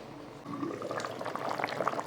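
Chicken rice cooking in a covered pot as its water boils off, quiet at first, then bubbling and popping in irregular soft bursts that grow busier toward the end, with no speech.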